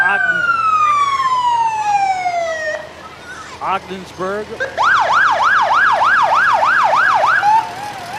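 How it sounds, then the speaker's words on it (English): Loud fire truck sirens wail nearby at a Fourth of July parade in Waupaca, Wisconsin, first a long descending sweep, then a rapid rising-and-falling yelp, with a brief spoken word between. "You can hear the sirens."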